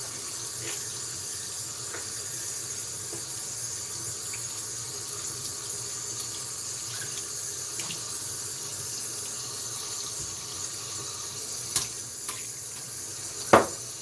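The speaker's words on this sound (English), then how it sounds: "Get the bulk of this lather out of my brush real quick." Tap water runs steadily over a shaving brush as lather is rinsed out, a constant close hiss and splash at a moderate level with a few small clinks near the end.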